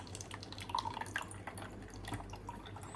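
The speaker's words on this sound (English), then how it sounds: "I just press and start filling up the water" Water dispensing from an LG WD518AN water purifier into a cup at a selected 120 milliliters and 40 degrees Celsius, a steady faint trickle and drip running through the whole stretch with no talk.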